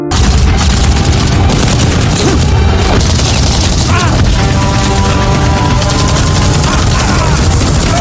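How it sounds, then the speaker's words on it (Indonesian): Loud gunfire and booming blasts fill a film action scene in which protesters outside a meeting building shoot at officers and storm inside, dense and continuous beneath a music score. "Tiba-tiba pendemo di depan gedung pertemuan melakukan aksi tembak ke petugas dan menerobos masuk."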